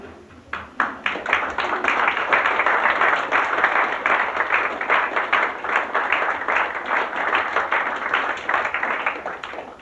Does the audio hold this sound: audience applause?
yes